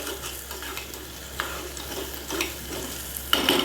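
A spoon stirs red chili powder into dal in a pot with a soft, steady scraping and light sizzling, heard close and fairly quiet, with a brief clink of metal near the end.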